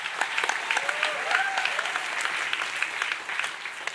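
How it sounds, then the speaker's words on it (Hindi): A youth camp audience applauds loudly and continuously, a dense, even roar of clapping that never lets up. "जोरदार ताली बजाकर"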